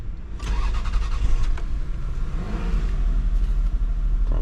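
A used car bought at an auto auction, showing about 180 on the miles and a check engine light, cranks with a rapid whirring and catches into a low, steady idle rumble, close and fairly loud, with no talking.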